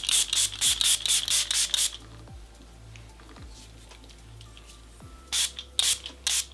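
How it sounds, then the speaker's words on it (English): Catrice HD Active Freezing Spray setting spray is misted onto a face in two quick bursts of close, hissing pumps, about six pumps at first and four or five more near the end, with soft rustling between them and no talking. "to finish off, I'm gonna go in with my Catrice HD Active Freezing Spray"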